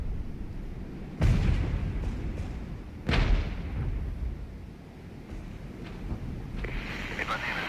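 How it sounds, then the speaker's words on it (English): Heavy artillery strike called in during a Regiments war game match: two loud, broad booming impacts land about two seconds apart, each with a rumbling tail, followed by quieter battlefield noise. "I'm going to call in a heavy artillery strike."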